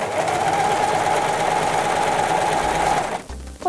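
An overlock serger stitches along a dress being remade into a top, a steady fast mechanical whir held for about three seconds before it stops, with no talking over it.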